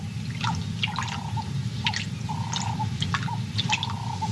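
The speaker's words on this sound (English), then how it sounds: "arrives at the water and takes a long, cool drink to wash down another huge meal during this time of plenty" A lioness laps water at a pool, producing a series of close, rhythmic wet drips and splashes, roughly one every half second, over a low background rumble.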